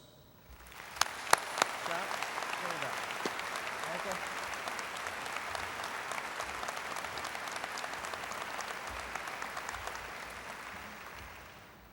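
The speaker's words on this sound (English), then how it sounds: "Please join me in applauding the dedication and efforts of these 2 valuable community" A graduation audience at a high school ceremony applauding, starting with a few sharp claps that swell into sustained dense clapping for about ten seconds before slowly fading.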